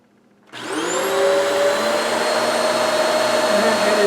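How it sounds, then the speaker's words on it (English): A Hoover Swivel XL Pet vacuum cleaner switches on abruptly and runs with a loud, steady whining roar and a high motor tone, close and alone after a restored beater brush. "So now we've restored our Hoover Swivel XL Pet to practical use."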